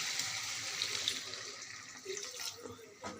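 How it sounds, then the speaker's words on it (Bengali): Water pours into a pan of fish curry to make the broth, a soft steady splashing rush that is close and fairly quiet, with a few clinks near the end. "আমি এখন হালকা ঝোল দিয়ে দেব।"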